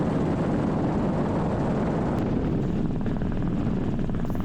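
A helicopter flies on a Hawaii island tour, its rotor and engine making a dense, steady roar that fills the whole stretch without a break and with no voices.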